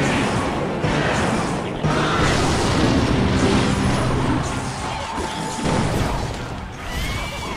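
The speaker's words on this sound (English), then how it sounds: "We're gonna rocket this." Rocket spell explosions and battle effects in the mobile game Clash Royale, a loud dense rumble with booming impacts over continuous game noise.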